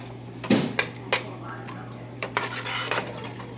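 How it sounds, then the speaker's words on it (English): Quinoa, bulgur and kale get stirred in a pot with a utensil, giving a few sharp metallic clinks and scrapes against the pot followed by softer stirring, close-up over a low steady hum. "And we're going to stir this up."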